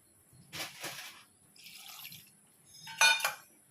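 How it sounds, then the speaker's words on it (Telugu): Water poured from a glass into a pan of shredded cabbage and chopped carrot, a few short splashing pours at low volume, the last one loudest. "గ్లాసున్నర వాటర్ వేసుకోవాలండి."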